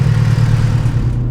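Turbocharged Mitsubishi Evo 9 engine with an upgraded turbo and Artec full downpipe and manifold, running loud and steady at close range with a deep, constant droning hum and no talk.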